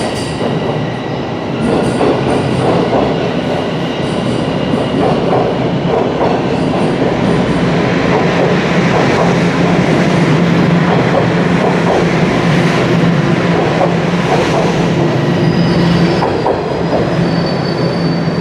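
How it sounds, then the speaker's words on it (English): A southbound Line 1 subway train rolling through Dundas Station in Toronto, loud and close, with rumbling wheels, clattering over rail joints and occasional high squeals of metal. "that's the southbound Line 1 train"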